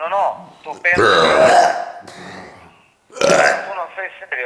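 A loud belch breaks out amid casual Italian conversation, with people talking before and after it.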